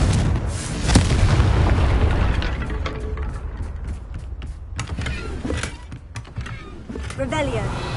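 A fiery blast spell erupts in a fantasy wizarding game, a loud booming burst with crackling debris that rumbles and fades over several seconds amid other magical effects.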